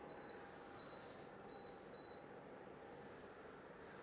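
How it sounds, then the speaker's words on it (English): A few short electronic beeps from an electric heater's control panel, evenly spaced then quicker, faint against a low steady background hum. "It started beeping, and then now there's a countdown here"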